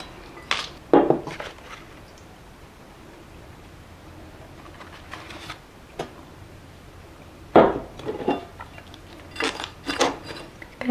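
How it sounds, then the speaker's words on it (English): Potting mix being scooped into a plant pot while potting a fiddle leaf fig, heard as scattered soft scrapes, rustles and a few sharper knocks of a tool against the pot, close and intermittent with quiet gaps. "So just half fill it with your potting mix."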